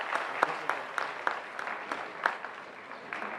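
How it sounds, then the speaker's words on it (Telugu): Applause at a women's bank employees' convention: moderate crowd clapping in a hall, uneven and somewhat distant, with a few sharp louder claps punctuating the steady patter. "చప్పట్లు గట్టిగా కొట్టారు"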